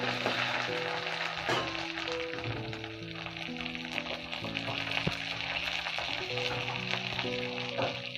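Sliced ginger frying in hot oil with cumin seeds, dried red chilli and bay leaf while being stirred: a steady, close crackling sizzle that runs throughout, with a tonal melody playing underneath.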